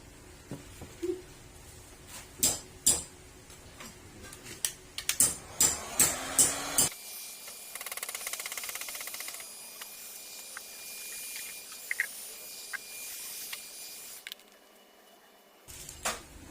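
A steady broadband hiss of a heat blower softening the sealant of a Honda PCX160 tail light runs for several seconds after some clattering handling noises, then cuts off abruptly near the end.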